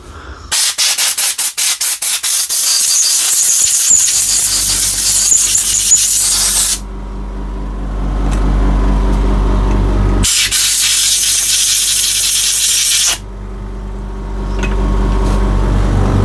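Parts of a Dewalt DCS367 saw being cleaned before re-greasing: loud, steady hissing and scrubbing in long sustained bursts with brief pauses, preceded by a quick rattle of clicks, and no voices.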